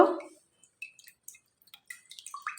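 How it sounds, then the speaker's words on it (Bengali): Tamarind water drips through a strainer into a bowl of water, sparse soft drops and trickles scattered across quiet gaps, close, after a brief dull pouring sound at the start. "এই ছাগনিটা নিয়েছি তেঁতুল জলটা আমি এখানে ঢেলে দিলাম"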